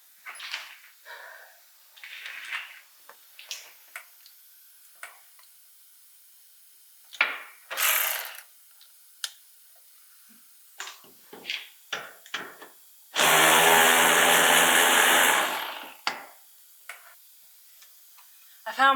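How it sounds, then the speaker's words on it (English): A 10mm ratcheting wrench clicks in short, sparse bursts of light metallic ticks while working on a Cummins-swapped vehicle interior, with a long loud rushing noise midway and scattered handling sounds. "I found my 10mm ratcheting wrench."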